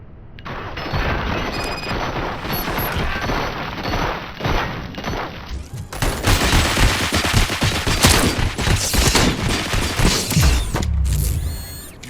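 Dense, loud gunfire from the video game RoboCop: Rogue City, a sustained fusillade of rapid automatic shots that grows heavier midway, with mechanical clatter and booms mixed in.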